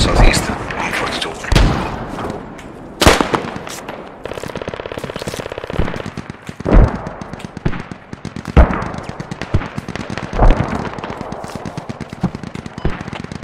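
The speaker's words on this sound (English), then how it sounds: "Enemy machine gun." Enemy machine gun fire bursts out in a military shooter video game, with loud rapid rattling volleys and sharp single shots repeating throughout, mixed with distant gunfire. Players talk over radio-style voice chat throughout.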